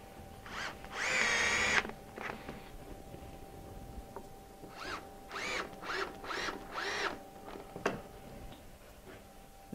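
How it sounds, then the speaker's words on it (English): Power drill driving screws to fasten a workpiece down to a sacrificial board on a CNC machine bed, heard as a series of short, fairly faint buzzing bursts, one longer burst first, then several quick pulses with clicks between. "I can just screw that down straight to the my sacrificial board"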